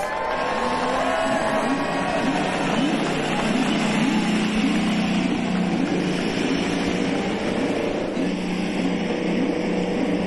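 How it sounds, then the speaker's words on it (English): A 26-car IndyCar field fires up at the 2022 St. Petersburg street race, filling the air with a loud, continuous roar of revving race engines, rising and falling over the murmur of a massive crowd. "Drivers, start your engines!"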